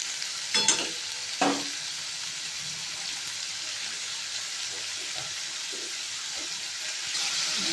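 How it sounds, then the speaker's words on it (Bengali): Potatoes and ridge gourd fry in a pan with a constant close sizzle, broken early by a couple of sharp stirring clatters and a few softer utensil taps later. "আলু আর ঝিঙেগুলোকে একটু লাল লাল করে ভেজে নেব"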